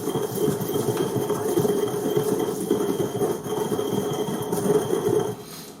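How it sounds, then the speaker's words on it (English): An electric grinder grinds cumin and Mexican oregano with a loud, steady whirring rattle that runs unbroken for about six seconds, then eases slightly at the end, with no voices. "we're going to grind up some cumin and Mexican oregano"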